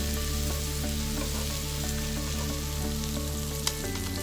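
A quesadilla frying in a pan after being flipped, giving a steady, even sizzle with a faint background hum, fairly quiet and close, with one small tap near the end and no voices.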